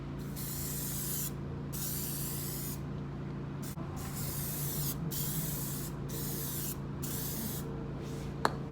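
A spray gun applies a first coat of paint to a Honda Accord part, hissing in repeated bursts of about a second each with short pauses between passes, close and steady.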